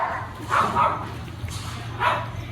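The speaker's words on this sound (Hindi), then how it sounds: "गुर्रा था ये, गुर्राना बहुत गलत रहता है।" A dog makes short low growly vocalizations in a few bursts, fairly close, with brief pauses between.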